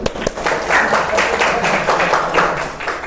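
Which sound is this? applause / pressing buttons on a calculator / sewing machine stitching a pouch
applause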